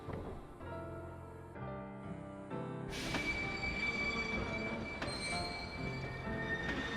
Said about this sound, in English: This is a mysterious ghost train.